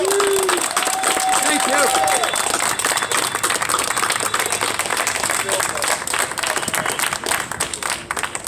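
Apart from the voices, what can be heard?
audience applause at a political rally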